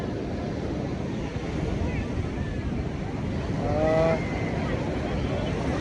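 Sea waves wash up the beach at Puri in a continuous broad rush mixed with wind noise. Brief faint voices come through near the middle.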